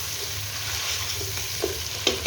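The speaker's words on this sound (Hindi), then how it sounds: "मसाला अच्छे से भुन जाए" Spice masala with tomato puree sizzles and fries in a pan for mutton biryani, a steady soft crackle with a few sharper stirring clicks and pops near the end.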